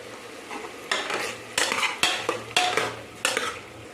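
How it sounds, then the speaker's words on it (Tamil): Mutton kulambu ingredients are sautéed in a pan with turmeric powder, a spoon scraping and clanking against the metal in repeated strokes over a low sizzle. "நல்லா வதக்கி விடுங்க."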